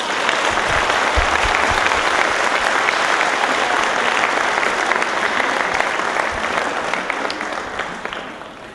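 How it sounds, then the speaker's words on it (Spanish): At a conference, the whole audience breaks into loud, dense applause that stays even for several seconds and then begins to taper near the end. "Hacemos un aplauso todos juntos para despertar a todos."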